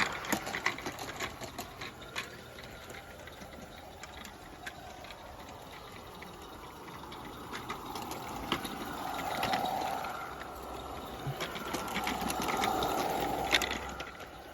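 A Lady Anne model locomotive runs on a garden railway track, giving a steady, smooth mechanical whirr with rapid clicking from the rails, fairly close and continuous, swelling slightly louder toward the end.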